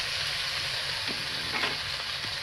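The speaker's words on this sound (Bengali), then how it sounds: "হালকা করে পেঁয়াজ ভাজা হয়ে গেছে" Onions and green chillies fry in a pan with a steady, close sizzle, broken by a few light stirring scrapes.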